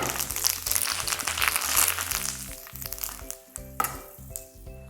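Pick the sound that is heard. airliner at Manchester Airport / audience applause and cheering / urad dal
urad dal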